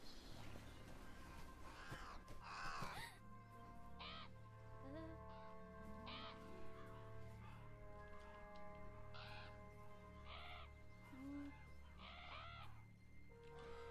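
Crows caw repeatedly in a video game, harsh calls scattered across a quiet ambient backdrop with a low steady hum, some calls nearer and louder, others faint.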